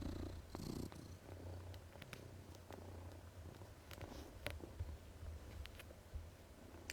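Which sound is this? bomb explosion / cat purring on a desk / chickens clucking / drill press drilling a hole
cat purring on a desk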